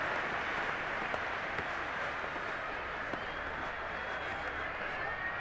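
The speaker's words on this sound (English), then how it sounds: "the crowd getting into it as we come up on a big 3rd down" A stadium crowd in Madden 23 gives a steady broadband roar, loud and continuous as the noise builds before a big third down.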